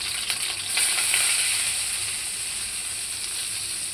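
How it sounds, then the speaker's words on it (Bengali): Turmeric stirred into hot oil in a pan, giving a soft, steady sizzle and fry that swells briefly early on, then settles to an even hiss; close and fairly quiet, with no talking. "এরপর আমি হলুদ দিব।"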